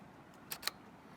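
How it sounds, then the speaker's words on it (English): A camera shutter fires during nighttime astrophotography at Glacier National Park, two quick crisp clicks in close succession, faint and near against a quiet outdoor background. "I'll click the shutter"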